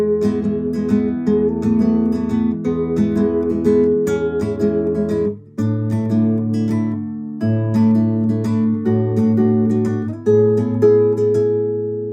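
Guitar plays the intro chord part of a song, strummed chords with clear changes and a brief pause midway, close and steady with no talking.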